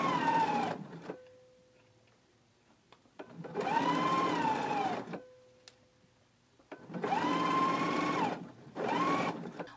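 Sewing machine stitching a 3/8-inch seam allowance in three close, loud bursts of whirring motor, separated by short quiet pauses.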